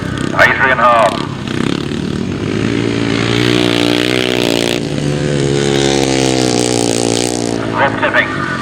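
Racing vehicles at full speed on a raceway roar past in a loud, sustained engine drone that shifts pitch as they go by, with a commentator's voice audible over the start and end.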